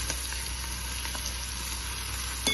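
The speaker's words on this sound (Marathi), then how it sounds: "मोहरीचा तुम्हाला तडतडण्याचा आवाज येत असेल" Mustard seeds crackle in hot oil while a raw mango thecha is being cooked, a steady close sizzle with small pops scattered throughout and no voices.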